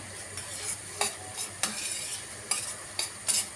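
Tomato paste sautéing in a pan for white cabbage sarma, a steady close sizzle broken by several sharp scrapes of a spoon stirring against the pan at irregular intervals, with no voices.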